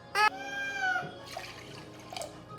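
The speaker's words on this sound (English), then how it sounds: "I'm gonna fill the rest with water." Water from a tap pours into a pot that already holds broth in a home kitchen, a short trickling, splashing stream with a brief squeak at the start.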